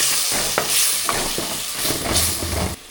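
Tomatoes sizzle and sauté in a hot pan for a village fish curry, with a loud continuous frying hiss broken by scraping stirs of a spoon across the pan.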